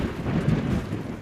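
Thunderstorm sound effect: a brief deep rumble of thunder over a wash of rain, loud and full, lasting only about a second with no voices.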